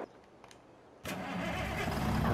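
A Mack truck engine in Farming Simulator 22 cranks and catches abruptly after a quiet pause, then settles into a loud, steady diesel rumble that builds slightly.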